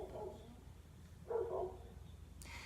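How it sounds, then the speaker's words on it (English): A dog barks in a few gruff, fairly close bursts with a grumbling edge between them, set against a quiet indoor background. "My dog is barking because another dog is barking"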